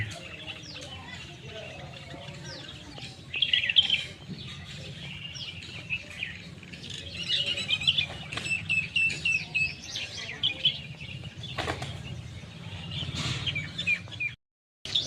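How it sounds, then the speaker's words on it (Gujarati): Small birds chirp and squabble with sharp high tweets in scattered bursts over faint ambient noise outdoors, some brief and clustered, with a soft voice at times. "લડે જુઓ પક્ષી લડે"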